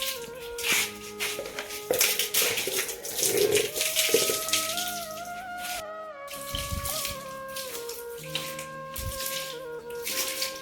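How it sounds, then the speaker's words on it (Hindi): Water is poured and runs into a container as a sustained splashing flow, its pitch rising as the vessel fills, with some clunks and a brief pause midway. "अभी नीचे उतर हूँ तो नीचे और पानी डालता हूँ"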